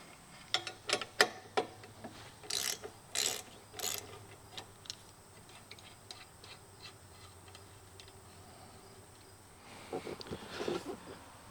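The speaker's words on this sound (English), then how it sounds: "We got a 13mm wrench. We're just gonna take these bolts off of here." A 13mm wrench working bolts off a storage box mount on a Kubota BX2380 compact tractor: scattered metallic clicks and ratcheting bursts in small clusters, with quiet stretches between, fairly close.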